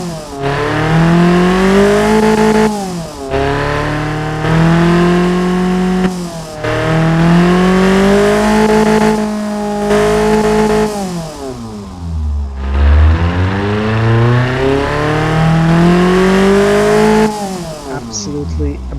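Toyota 22R-E four-cylinder with an upgraded cam and improved intake and exhaust, simulated in the Automation game, revving repeatedly in loud rising and falling sweeps, close and alone, a distinct bump near the middle.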